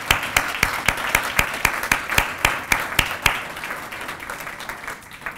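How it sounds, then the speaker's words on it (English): A modest audience at a school program kick-off claps steadily, individual hand claps distinct and fairly rhythmic against a softer wash of applause that thins toward the end. "Can I get a round of applause?"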